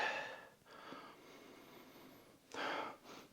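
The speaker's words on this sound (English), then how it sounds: "let's sniff it out" Short nasal sniffs close to the mic, a couple of quick inhalations at the start and another firm sniff near the end, against quiet background, as someone sniffs Prada L'eau Ambrée perfume on skin.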